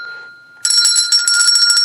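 A bright metallic bell bursts into sustained rapid ringing after a faint, thin tone, loud and close, with a brief flutter partway through.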